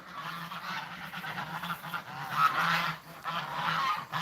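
Geese honking on a mountain farm by a pond, a flock calling in overlapping bursts at close to moderate distance, rising and falling irregularly with no one talking.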